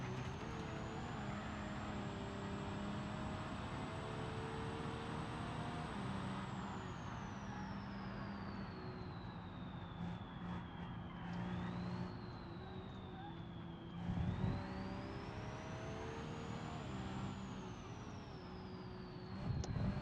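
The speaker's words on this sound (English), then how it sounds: "How's that fucking spool on the turbo, boys? You can hear it for so long." A car's turbo spools in a driving video game with a long, sustained rising and falling whine over steady engine drone, loud and continuous throughout.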